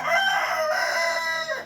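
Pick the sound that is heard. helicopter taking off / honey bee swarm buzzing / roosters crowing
roosters crowing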